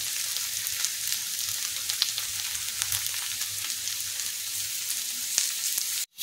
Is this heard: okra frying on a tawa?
yes